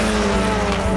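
Touring race cars from the Global Touring Cars series, including Toyota Gazoo Racing entries, brake hard into a corner, with a loud, steady engine roar and tire noise held close throughout.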